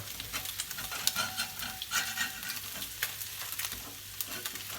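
Frying in a pan while a spatula scrapes and pokes underneath, for a homemade breakfast muffin; a steady sizzle runs throughout with scattered clicks and scrapes, close and moderately loud, no voices.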